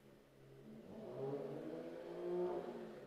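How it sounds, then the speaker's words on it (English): A Mercedes-AMG E 53 4MATIC+ Cabriolet engine comes to life, a low, faint rumble that builds in two gentle swells as it revs lightly, heard alone without speech. "Now, let's switch on the car and see what it has to offer."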